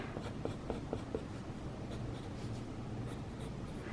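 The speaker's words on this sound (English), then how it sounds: "I'm just really roughly sketching this in." Pencil or pen roughly sketching a doll dress pattern on paper, soft scratchy strokes with a few quick distinct scribbles early on, then a faint continuous scraping close by.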